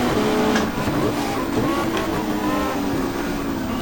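Super Touring race cars, including a Volvo, racing at the Gold Coast Indy circuit in the GTR2 video game, with engines roaring steadily and loudly throughout, their tones shifting as they accelerate.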